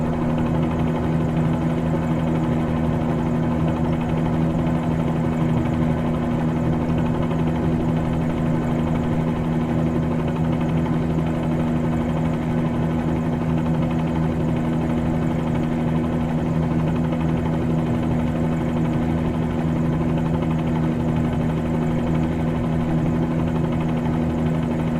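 Helicopter flying in Microsoft Flight Simulator 2020: a continuous rotor and turbine drone, steady and loud with a low hum throughout, no voices.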